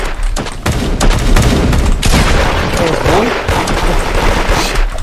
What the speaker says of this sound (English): Oh shit, they all shooting at me.